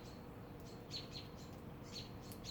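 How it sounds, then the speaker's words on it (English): Birds chirp outdoors in quick, high, repeated tweets that sound faint and distant over a steady background hiss. "Hear the birds?"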